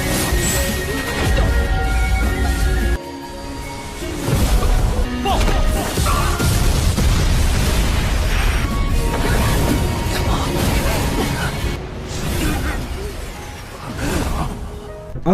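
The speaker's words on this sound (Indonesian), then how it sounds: "ledakan sebenarnya dari teratai api langsung menghantam Han Feng." An animated fire lotus explodes and slams into its target, a loud, dense roar of crashing, whooshing blasts with heavy low rumble that stays sustained for the whole stretch, briefly dipping near the three-second mark.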